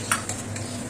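Yogurt going into a pan of frying ginger and green chilli for doi katla, with a quick stir scrape and soft sizzling over about a second.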